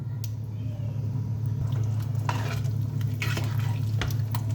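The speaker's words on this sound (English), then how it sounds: "I'm just gonna scoop in the ogbono, pour it in" Ground ogbono is scooped into a simmering pot of soup over medium-low heat and stirred, giving close scraping and squishing sounds over a steady stove hum and light sizzle.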